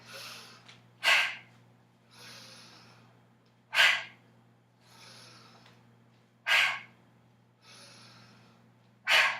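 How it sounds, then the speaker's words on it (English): Slow, deep yoga breaths during a standing vinyasa flow, drawn from the pelvis rather than the throat: four sharp forceful exhalations alternate with softer, longer inhales in an even rhythm, close and quiet, with no talking. "This breathing is coming from the pit of my pelvis, not my throat"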